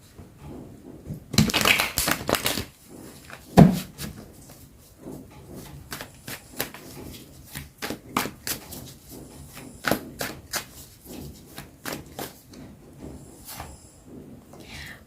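Tarot cards are shuffled and handled in a quiet room, with bursts of crisp riffling and a sharp tap, then a long stretch of soft repeated card flicks and slides at close range.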